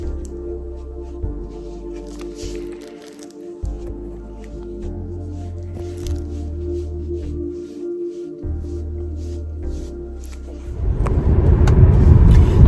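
A car travels along a road, with a steady low engine and road rumble heard from inside the cabin that grows into a louder, rougher roar near the end.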